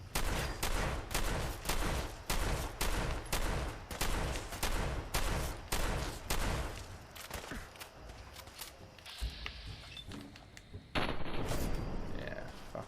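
Shotgun fire in the video game Fallout 4 comes as a rapid rhythmic series of loud, close blasts for several seconds, then thins into scattered shots and mechanical clatter before a louder burst near the end.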